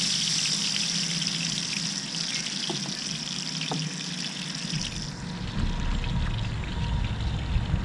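Olive oil and butter go into a pan for blackened redfish, giving a steady liquid pour and hiss near the microphone that swells into louder, fuller sizzling in the second half, with no talking.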